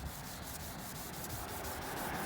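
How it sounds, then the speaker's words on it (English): 3000-grit sandpaper works wet across black car paint to remove surface scratches, giving a steady, close, rhythmic rubbing and scratching with regular strokes and no voices. "I'll be wet sanding, and I'll basically take my 3000 grit"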